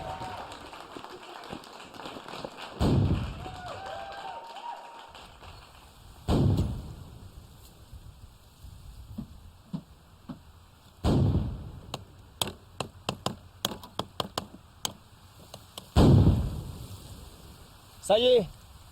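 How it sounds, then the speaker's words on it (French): A 21-gun cannon salute is fired to mark the raising of the flag of Louis XVIII over Saint-Pierre; loud separate booms come at intervals of a few seconds, each with a rumbling tail, followed by a quicker run of sharp reports. "tirer une salve de 21 coups de canon"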